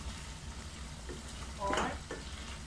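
A short burst of stirring in a pan of chicken pasta seasoned with black pepper, a soft scrape and sizzle rising briefly over a low, steady background hum.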